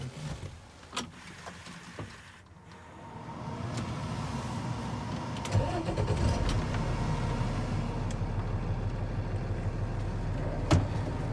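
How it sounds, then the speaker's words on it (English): A truck engine cranks and catches inside the cab during a CDL in-cab pre-trip check with the parking and trailer brakes set and the transmission in neutral, settling into a steady low idle rumble after a few clicks. "I can start this truck."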